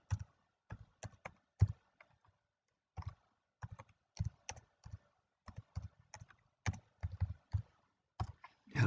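Typing on a computer keyboard, close and distinct key taps in quick clusters separated by short pauses, with no other sound.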